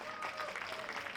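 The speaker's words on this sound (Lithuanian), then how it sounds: "Jūsų aplodismentai" Audience applause in a large indoor arena at a university fair, a brief, steady wash of clapping heard at a moderate distance.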